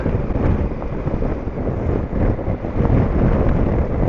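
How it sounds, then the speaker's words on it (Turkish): Strong stormy wind roars continuously across the microphone on a motorcycle ride near Silifke, Turkey, a loud, buffeting rumble with gusts swelling and easing throughout, no voices present. "İnanılmaz rüzgar var."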